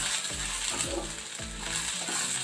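Peanuts roast in a little oil in a pan for chutney, giving a steady close sizzle broken by repeated scraping stirs of a spoon against the pan, with no talking.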